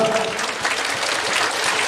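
Warm audience applause welcoming a leadership speaker at a youth vision concert, a continuous, even wash of many hands clapping for a couple of seconds.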